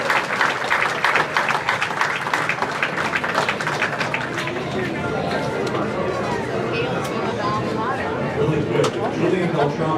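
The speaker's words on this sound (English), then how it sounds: "please give these bowlers a nice round of applause" An audience at a junior bowling awards ceremony gives a round of applause, many hands clapping in a dense, close patter that continues throughout, mixed with crowd chatter and talking voices.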